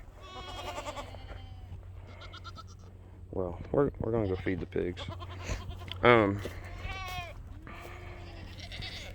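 Goats bleat repeatedly during a morning move on rotational grazing pasture, several loud, close wavering cries in a cluster, with a person talking briefly at the start over faint steady background hum.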